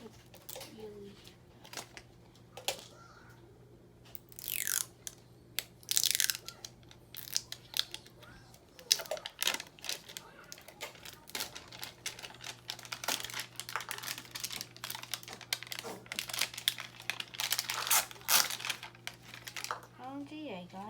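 Sharp snipping and crinkling bursts from scissors working through plastic packaging, close up, repeated in quick clusters under intermittent talking.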